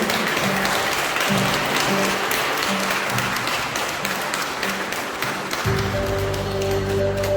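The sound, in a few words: congregation applauding in worship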